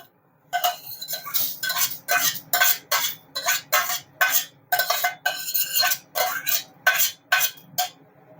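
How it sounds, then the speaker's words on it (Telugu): A metal spoon repeatedly scrapes roasted fenugreek seeds out of a pan onto a plate, about a dozen quick, close clattering strokes in a steady rhythm with short pauses between them. "ఇప్పుడు మనం మెంతులు తీసేసుకుందాము తీసేసి నేను ప్లేట్లో వేసేసుకుంటాను"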